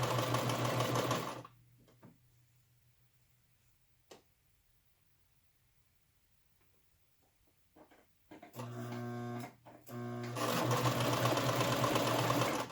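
A sewing machine stitches fabric for a yarn cake keeper, running steadily, then falling quiet with faint fabric handling, then restarting in short bursts before a longer steady run.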